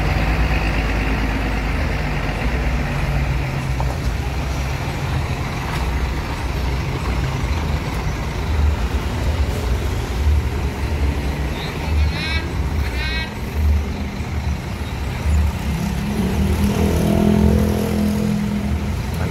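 A long Gunung Harta tronton bus on a Scania chassis rumbles past on a busy road, heavy diesel drone mixed with traffic noise, with a voice speaking briefly over it.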